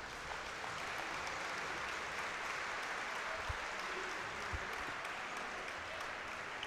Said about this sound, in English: And he gets a nice round from the crowd.